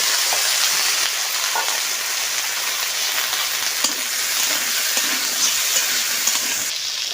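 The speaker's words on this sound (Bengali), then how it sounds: "মাছ ভাজা তেলের মধ্যে ঝিঙ্গাটা ছেড়ে দিই।" Ridge gourd hisses and crackles in leftover fish-frying oil, a loud, even sizzle that runs throughout, with occasional small pops and light stirring clicks and no speech.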